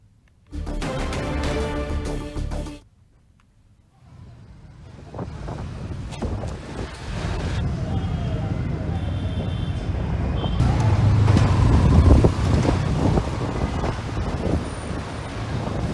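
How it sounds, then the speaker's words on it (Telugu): Strong gusty wind roars during a dust storm over Delhi and Noida, with rumbling microphone buffeting. A short burst comes first, then a longer stretch that builds louder. Faint background noises sit under the wind. "హఠాత్తుగా ఆవరించిన గాలి దుమారుతో జనం బెంబేలెత్తారు"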